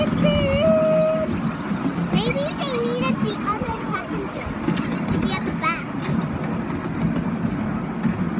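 A miniature railway train rumbles and clatters past with a steady mechanical hum, while a child chatters and high tones sound briefly near the start.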